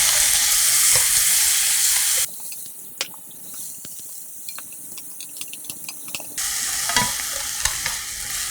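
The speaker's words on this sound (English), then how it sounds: "after we fried this beef, you put some more cooking wine" Beef frying in a pan with a splash of cooking wine for Korean bibimbap: a loud, dense sizzle drops to a quieter stretch with scattered clinks and pops, then swells back to full sizzle.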